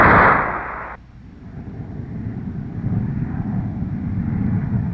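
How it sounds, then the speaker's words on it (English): A North American F-107 jet engine roars on afterburner at takeoff: a loud, bright blast that cuts off after about a second into a deep, sustained rumble that slowly builds. "Release brakes, throttle to afterburner."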